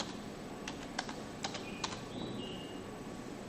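Several crisp keystrokes on a computer keyboard tap out a command in an irregular rhythm, close and fairly quiet, followed by a lull with no talking.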